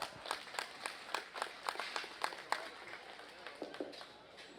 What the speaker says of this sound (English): I'd ask you to give them a big round of applause